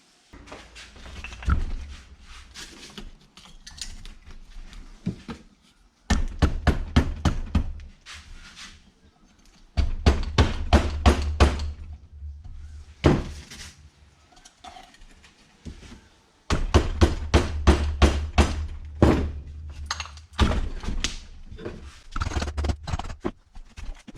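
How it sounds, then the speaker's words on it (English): Wooden wedges are hammered to prise open a Yamaha RXS 115 motorcycle engine casing: bursts of rapid, sharp knocks in quick runs, separated by short pauses, loud and close, with no talking. "I'm going to go and cut myself some wooden wedges and I'm going to wedge it out."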